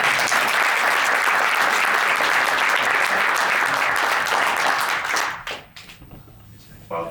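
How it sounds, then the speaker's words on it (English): A lecture-hall audience gives a loud, sustained round of applause for panelists at a university event. The dense clapping fades away after about five seconds, then a few voices and a stray clap remain. "one more round of applause for everyone who has come here today."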